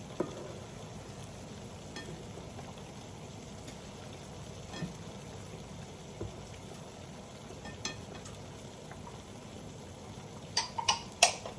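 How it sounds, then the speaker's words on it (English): Creamy garlic chicken sauce with Parmesan simmers in a pan, giving a faint, steady low bubbling with scattered soft ticks and clinks toward the end, with no talking. "it's starting to simmer again"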